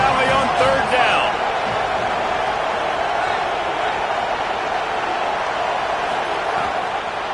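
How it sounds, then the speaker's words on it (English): A loud, steady roar from a huge stadium crowd at Penn State's Happy Valley on a third down during a Penn State vs Tennessee football game, holding constant throughout, with a faint voice near the start. "Here comes the noise from this big crowd in Happy Valley on third down."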